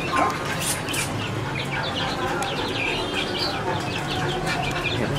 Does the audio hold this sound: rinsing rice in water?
no